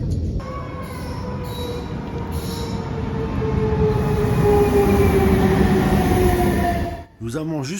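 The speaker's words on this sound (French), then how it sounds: "voilà déjà notre train pour Genève, un interrégio des CFF qui vient de Brigue" A Swiss CFF InterRegio train from Brig to Geneva rolls into Montreux station, a long descending whine and rumble building, then fading as it slows to a stop, with a short squeal and a voice briefly at the end.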